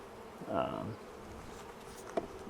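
A soft honeybee buzz hums at close range over an open hive, swelling briefly near the start, with a faint scrape or tap toward the end.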